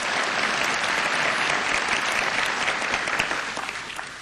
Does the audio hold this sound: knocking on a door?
no